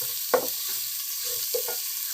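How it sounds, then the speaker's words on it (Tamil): Onions sautéing in oil in a pan while making kuska, a soft continuous sizzle with a few short scraping stirs, close and fairly quiet. "சேர்த்து நல்லா வதக்கிக்கிறங்க."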